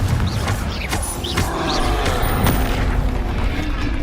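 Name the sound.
Confringo and Bombarda explosion spells in Hogwarts Legacy video game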